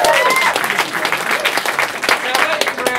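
A comedy improv show audience applauds before a lightning-round game, a loud, dense burst of clapping with cheers mixed in and some voices over it.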